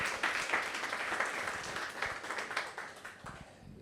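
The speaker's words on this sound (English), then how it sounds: "So I'd like to give a round of applause to Rich." An audience at a public health talk gives Rich a round of applause, many hands clapping in a dense, steady patter that tapers slightly toward the end, heard from a moderate distance.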